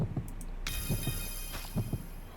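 Low thumping beats sound during item enhancement in the mobile game ArcheAge War, coming in paired pulses like a heartbeat against a steady game background. A bright chime-like tone enters partway through.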